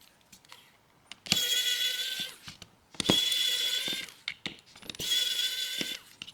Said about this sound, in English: Then we got all these screws we got to pop out.